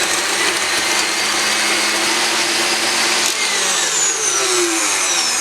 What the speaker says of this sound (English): start beating this on high speed about 2 minutes